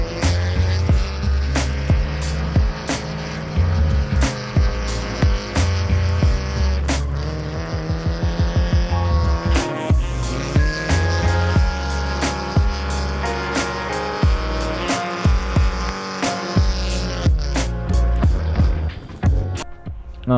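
A car drifting at a Piedmont drift event, loud engine revs pulsing in repeated bursts with limiter bounces and tire squeal, the engine roaring throughout.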